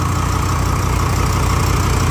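A Deutz tractor engine, freshly rebuilt and running without its turbo belt fitted, idles loud and close with a steady heavy rumble and even pulsing throughout, with no voices over it.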